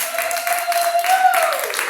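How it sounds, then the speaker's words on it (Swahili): Church congregation applauding for Jesus, a short burst of clapping from many hands, with a sustained voice or tone running through it. "Pigie Bwana Yesu makofi."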